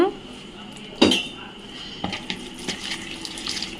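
Water poured into a cooking dish while making biryani in a home kitchen, a faint splashing pour under light clinks of metal utensils and pots, with a sharp clatter near the start.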